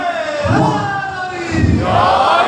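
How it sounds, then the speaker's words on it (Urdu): Audience at a religious gathering in Lahore chants slogans together, loud massed voices rising in two surging bursts like a call-and-response cheer. "یہ بچوں سارے نعرے ادھر ادھر سے لگ رہے ہیں"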